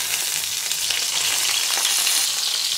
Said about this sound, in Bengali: এবার সর্ষের তেলটা গরম হয়ে এলে আমি এক এক করে পটলগুলো ভালো করে লাল লাল করে ভেজে নেব।